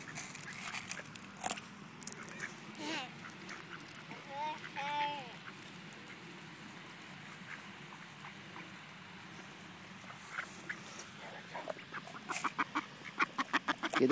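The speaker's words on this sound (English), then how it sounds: "Get the duckies Cheerios." Ducks being fed Cheerios, giving a few faint quacks and calls in the background while a child and an adult talk quietly nearby.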